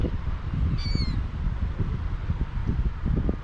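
A single bird calls outdoors at Bear Lake, Utah: one short, thin, rising chirp-like call over a blustery, rumbling wind background.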